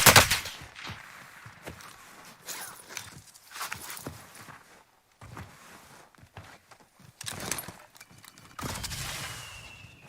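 Bursts of gunfire in a shooter video game, with scattered shots and rapid volleys from enemies down a hill, mixed with footsteps and movement noise, loud and close at the start, then intermittent.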